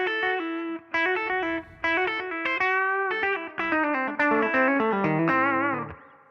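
Electric guitar with effects playing a country-style phrase using partial string bends, a series of clear picked notes and short bent notes in an uneven melodic rhythm, close and alone with no talk.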